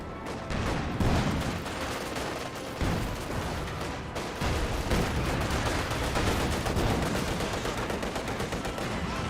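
Gunfire in the strategy video game Company of Heroes 2, with dense overlapping rifle and machine-gun bursts and booms forming a continuous battle clatter at moderate volume, no voices.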